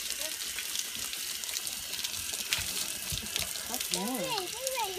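Warm water runs steadily from a tap into a sink, a continuous broadband splashing rush held close throughout, with a voice speaking briefly over it near the end.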